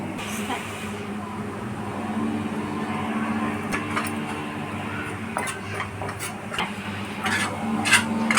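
Chickpea flour roasting in a pan with chillies, garlic, tomato, onions, curry leaves and spices, a spoon scraping and stirring steadily with occasional metallic clinks against the pan.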